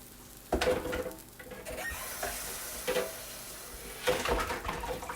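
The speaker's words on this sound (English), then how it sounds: "scrape around this bowl and pull out the rest of it" A spatula scrapes around a bowl to gather the last of the blueberry pancake batter, giving repeated rough strokes, with faint sizzling from a hot pan underneath.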